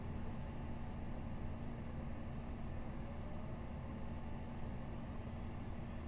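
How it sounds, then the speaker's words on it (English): A Class 166 diesel multiple unit motor drones in a Train Simulator run on the Birmingham Cross City line. A quiet, steady, low engine hum with a faint tonal whine holds unchanged throughout, with no talking. "these trains actually do sound like this, which is quite cool"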